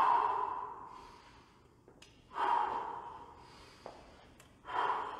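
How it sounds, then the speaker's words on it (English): Three quick, breathy gasps spaced about two seconds apart from someone resting between total-body circuit exercises, close and clear with a soft fading tail after each. "take a quick breather. Four quick breaths, because I need it."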